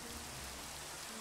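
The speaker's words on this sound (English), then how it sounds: "it starts to rain." Steady rain falls in the farming video game Farming Valley, an even hiss of drops that holds constant and fairly quiet for the whole stretch with no talk.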